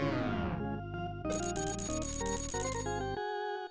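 A telephone rings in the SNES video game Vegas Stakes: loud chiming electronic tones that trill and shift through a short melodic pattern, then stop abruptly.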